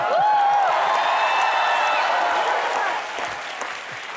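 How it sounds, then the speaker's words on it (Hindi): Studio audience applause on a Hindi comedy talk show, a loud dense wash of clapping from a large crowd that stays steady before easing slightly toward the end, with some voices mixed in. "तालियां।"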